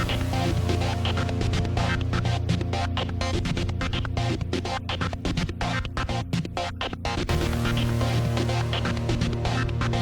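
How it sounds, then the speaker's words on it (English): A sustained, heavily distorted synth pad drones loudly, rough and gritty with flickering texture, holding steady before a brief shift near the end. "oftentimes the next thing I go to is a very long pad-like sound"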